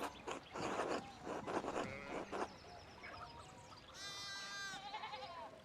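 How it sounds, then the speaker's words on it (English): Sheep in the video game Pentiment bleat repeatedly, several wavering calls overlapping one another, with a long sustained bleat near the end and no talking. "we need to get these sheep under control"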